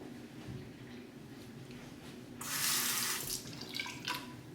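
A bathroom tap running for a quick face rinse during a wet shave, a steady splashing rush of water that starts partway through and then breaks into uneven splashes.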